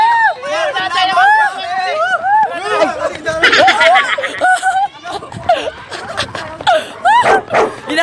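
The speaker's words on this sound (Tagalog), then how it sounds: "Hinahabol kami ng aso!" A dog barks and yips at people during an outdoor fun walk at a school foundation day event, the barking mixed into loud crowd babble, shouting and laughter throughout.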